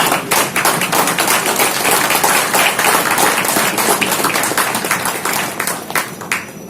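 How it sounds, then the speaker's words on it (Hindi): Loud, energetic clapping from a crowd at a meeting in Kolkata, steady and continuous throughout, with sharp individual claps standing out in the mix. "एक बार जोरदार तालियां"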